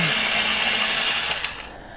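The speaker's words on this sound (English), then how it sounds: "I make all this noise with a pencil sharpener." An electric pencil sharpener grinds a pencil at a desk, a steady close whirring buzz that tapers off near the end, with nobody talking.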